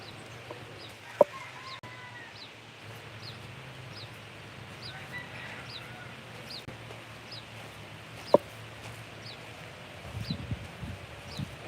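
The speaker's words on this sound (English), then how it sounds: "Lots of birds." Chickens cluck and call softly in the distance over a quiet countryside background in Aruba, with a couple of sharp brief clicks and some rustling near the end.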